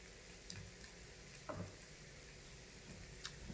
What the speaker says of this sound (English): I'm sauteing them all first